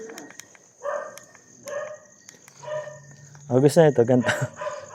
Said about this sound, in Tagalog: May aso pala doon.